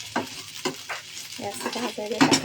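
Chopped garlic, chili and ginger sizzle and crackle as they hit hot oil for tempering, with stirring scrapes in a pan, close and lively over a few seconds.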